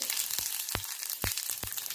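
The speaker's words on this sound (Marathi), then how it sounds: "जिरा तडतडला की" Cumin seeds crackling in hot oil in a kadhai after mustard seeds, for Konkani-style pithla: four or five sharp pops at irregular intervals over a steady close sizzle, no talk.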